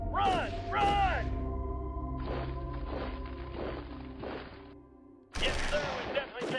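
Gunfire in the war strategy game Shadow Empire comes in several sharp bursts among whooping effects and a low continuous rumble, with game voices around it and a louder volley near the end.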